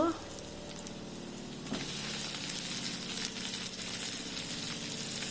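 Onion frying in a pan, a steady moderate sizzle that swells louder partway through as more goes into the oil, with no talking.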